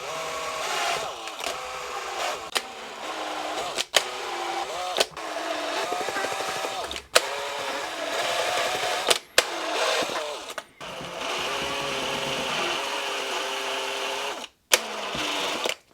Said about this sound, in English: So now I'm going to use the conical drill.